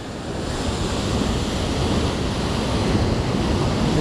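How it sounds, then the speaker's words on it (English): Ocean surf rolls in steadily along the shore at a fishing spot, a continuous loud wash of breaking waves with wind across the microphone and no voices. "See this big wave coming."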